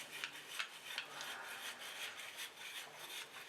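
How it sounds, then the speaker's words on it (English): An Airforce Texan air rifle's hammer tube being unscrewed by hand, a quiet, continuous metallic rasping and rubbing with small irregular scrapes, close by, with no voices. "We're going to put our finger in there, unscrew that."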